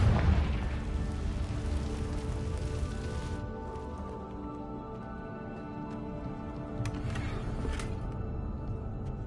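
A Confringo fire spell bursting in Hogwarts Legacy, a loud opening boom that trails into a long crackling, rain-like rumble which thins out and fades, with a few sharp pops near the end.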